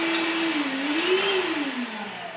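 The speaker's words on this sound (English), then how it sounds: "I like running that vacuum on low" A shop vacuum runs on its low setting among workshop tools, a steady, moderately loud whirring hum whose pitch wavers slightly.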